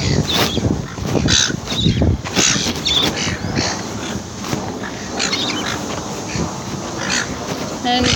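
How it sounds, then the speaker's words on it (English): Seagulls call near their nest on Cockatoo Island, giving repeated harsh, squawking cries at close range, mixed with people talking nearby. "And we just found a nest of seagulls."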